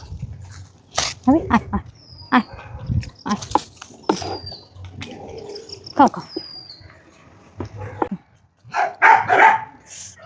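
Stray dogs bark in short bursts between stretches of talking, the barks close by and irregular, with a few high bird chirps in the background.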